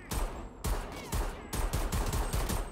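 Gunfire in the video game Homefront: The Revolution, with several loud, punchy shots in quick succession, some close together in short bursts, filling the whole stretch without any talking.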